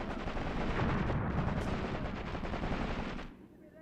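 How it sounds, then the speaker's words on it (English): Machine gun fire in the tactical war game Graviteam Tactics: Mius Front, a dense, loud burst of rapid gunfire with overlapping shots lasting about three seconds before cutting off abruptly. "Plenty of machine guns out there."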